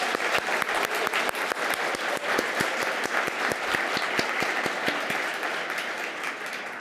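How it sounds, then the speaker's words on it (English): Audience applause for a physician assistant class at a white coat ceremony, a dense steady clapping from a large crowd that holds level throughout with no voices over it. "One more round of applause."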